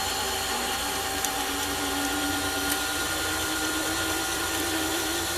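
Electric mixer whirring steadily through banana bar batter, a continuous motor drone with a bright high whine, close and unbroken the whole time.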